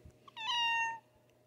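A pet cat lets out a single clear, drawn-out meow lasting just over half a second, close and fairly loud in an otherwise quiet room.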